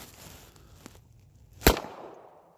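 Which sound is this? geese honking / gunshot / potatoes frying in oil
gunshot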